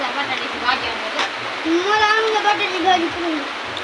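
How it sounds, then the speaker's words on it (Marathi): Steady rain falls close by as a continuous broadband hiss, while someone speaks over it for much of the time. "पाऊस चालू"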